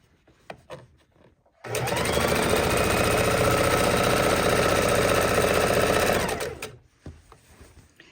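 Close and loud, a sewing machine stitches a tote bag in one continuous run of about five seconds, with quiet handling noises before and after.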